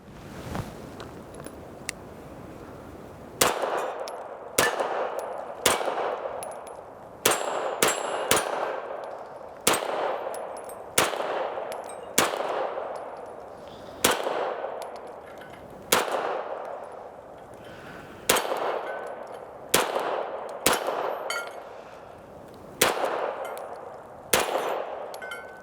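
Tisas Duty 9DS 2011 pistol firing 147 grain 9mm rounds outdoors at a range: a string of sharp, loud reports spaced irregularly about a second or two apart, each ringing out with a short decay, no talk.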